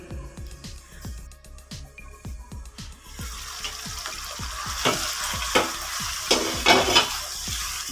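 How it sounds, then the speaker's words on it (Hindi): Boiled beef and potatoes stirred and fried in a pot, starting with a brisk, regular series of spoon knocks, then a louder frying hiss with scattered scrapes and clatters, all close and without speech. "वक्फे वक्फे से इसमें हम चम्मच मुसलसल हिलाते रहेंगे ताकि नीचे से ये लगे नहीं"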